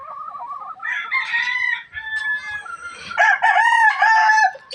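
Chickens clucking and a rooster crowing at a Filipino chicken farm, with several loud, close crows and clucks overlapping one another throughout and no talking.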